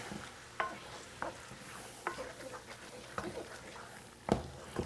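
A spoon stirs onions, peppers and wine in a pan for shrimp etouffee, giving faint, intermittent scraping strokes over a soft, steady simmer.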